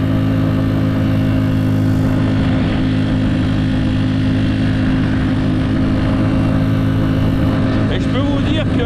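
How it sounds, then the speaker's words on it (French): Small carburetted engine vehicle with a faulty carburettor and intake pipe climbing a winter mountain road through a gorge in the Vercors, a steady droning engine hum throughout, close and continuous, with faint voices beneath. "au niveau performance, à cause de mon problème de carbu et de pipe d'admission, c'est pas évident, mais ça arrive quand même à grimper"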